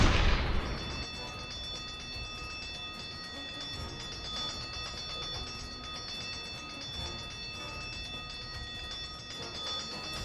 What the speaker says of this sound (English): A couple of shots with the gun and she'll go down.